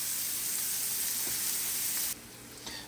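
Onions sizzling in a pan, a steady bright hiss that drops off sharply near the end, leaving a quieter sizzle with a small clink, close up.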